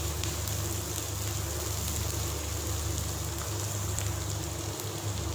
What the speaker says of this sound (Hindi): टमाटर और हरी मिर्चें हो चुकी हैं अच्छे से फ्राई।